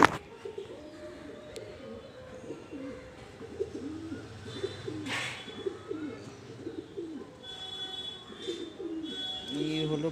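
Madrasi pigeons cooing in a steady run of low, repeated coos with faint chirps in a room, with someone talking over parts of it.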